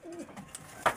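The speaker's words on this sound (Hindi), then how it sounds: "बहुत जबरदस्त कबूतर है, बहुत एक्सपेंसिव कबूतर है दोस्तों ये।" A large, expensive pigeon cooing softly up close on a rooftop, a few low murmured coos followed by a brief sharper sound near the end.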